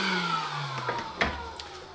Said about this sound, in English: when you turn the vacuum on